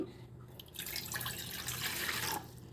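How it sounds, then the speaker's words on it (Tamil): Water poured into a pot for sweet ragi porridge (kanji), a steady splashing stream running for about two seconds in a home kitchen, fairly close, with no talk over it. "ரெண்டு டம்ளர் தண்ணி ஊற்றிக்கிறேன்"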